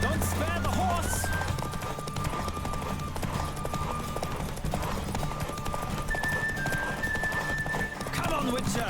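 Horse galloping with steady clip-clop hoofbeats and a whinny in The Witcher 3 video game, hooves drumming throughout beside music and game sounds while a voice talks over them.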